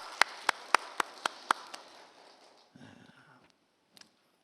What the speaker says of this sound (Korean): 다시 한번 박수 한번 쳐주세요.